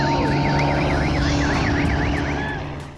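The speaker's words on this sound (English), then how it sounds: "That wailing car alarm sound you heard is a warning siren" A warbling warning siren on an electric racing motorcycle at the Pikes Peak hill climb in Colorado wails up and down steadily and loudly, continuing over a constant engine-like drone and fading slightly at the end.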